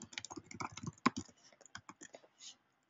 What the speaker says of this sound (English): if I type something,